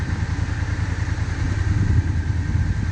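Motorcycle engine revving steadily on a trail during a pivot turn, a loud, close, continuous low throbbing drone with slight surges in throttle and no talk.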